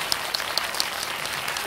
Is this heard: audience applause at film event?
yes